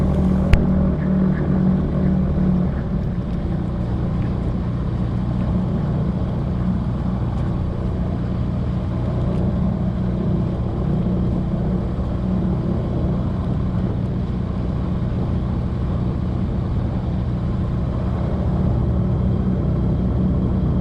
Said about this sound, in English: we just wait here until the rotors have stopped, which will take a while